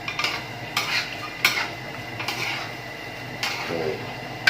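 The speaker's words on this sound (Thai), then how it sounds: "ผัดคลุกเคล้าให้เข้ากันแล้วชิมรสตามใจชอบแล้วนะครับ" Crispy snakehead fish tossed with chili paste in a wok over high heat, the spatula scraping and clanking against metal in repeated strokes beneath a low steady sizzle, close and without talk.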